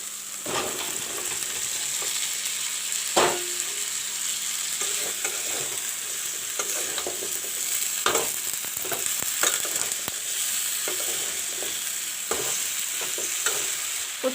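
Drumstick, cauliflower and potato pieces sizzle steadily in browned masala, a close, continuous frying hiss broken by occasional stirring scrapes and clatters of a spoon in the pan.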